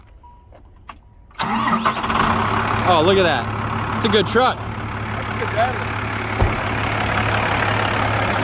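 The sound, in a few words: truck engine starting and idling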